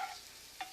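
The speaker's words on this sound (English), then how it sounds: "Give them a nice stir." Brussels sprouts and onions being stirred in a covered pan over medium-low heat, a brief scrape with a soft sizzle near the start and another scrape near the end, faint and close.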